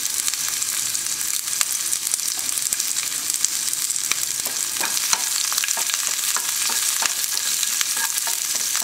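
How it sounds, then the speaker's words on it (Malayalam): Shallots, green chilies and curry leaves fry in hot oil after mustard seeds have popped, making a close, steady sizzle with scattered crackles and occasional stirring scrapes, with no talking. "ഇത് നന്നായിട്ട് മൂപ്പിച്ച് നമുക്ക് കറിയിലേക്ക് ഒഴിക്കണം"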